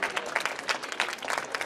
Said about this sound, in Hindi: आप तालियां बजाइए, लड़के कम तालियां बजा रहे हैं।